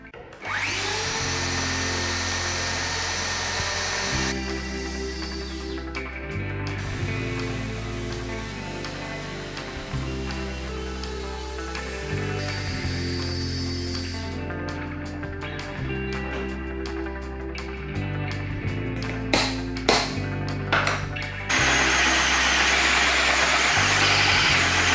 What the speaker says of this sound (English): Let's try not to screw it up with this circular saw. See if we can get it cut out.